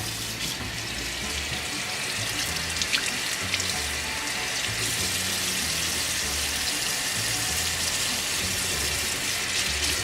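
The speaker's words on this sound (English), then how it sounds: "And then I'm going to rinse with warm water." Warm tap water runs steadily from a faucet into a sink for a rinse, a loud, continuous, close hiss and gush with little change throughout and no talking.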